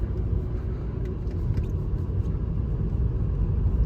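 A VW Passat 1.8 TSI with 79,000 miles on it, driven on the road: a steady, even engine and road rumble from inside the car, with no one talking.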